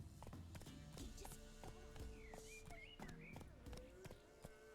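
In The Witcher 3, a horse's hooves clip-clop in a quick, uneven rhythm with sharp, repeated strikes, joined by game sound effects and a voice in the background.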